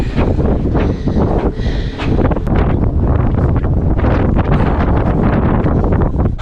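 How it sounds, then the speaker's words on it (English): Strong, gusty wind on a sailing boat off the Isle of Skye, Scotland, roars and buffets the microphone in loud, continuous blasts, with rushing turbulence throughout. "Damn, it's windy."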